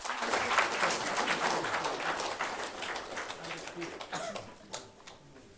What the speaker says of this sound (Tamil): அரங்கம் நிறைந்த கரகோஷத்துடன்.